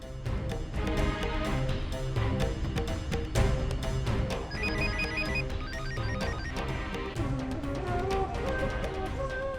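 A telephone rings with a repeating electronic tone, heard over a busy musical background.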